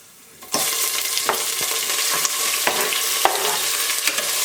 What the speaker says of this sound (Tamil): இப்போது பலாவில, பட்டை, லவங்கம் இதெல்லாம் போட்டுக்கலாம். கருவேப்பிலை, கொஞ்சமாக கோடம்பு போட்டுக்கிறேன்.